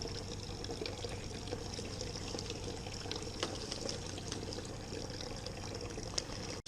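Yeast being pitched onto chocolate coconut oat stout wort during a home brew batch, a soft continuous watery pouring and trickling sound, close and steady without talk.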